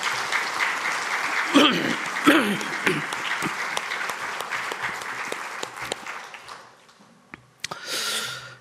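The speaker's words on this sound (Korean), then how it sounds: "우리 재정부를 위해서 우리 함께 격려의 박수 한번 부탁합니다" A church congregation applauds together for the finance team, a dense steady wash of clapping that thins and fades near the end, with a short renewed burst just before it stops.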